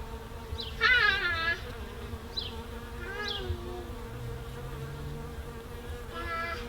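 Bees buzzing steadily nearby around a beehive on an urban homestead, a dense insect hum with a few louder passes close by, no talking.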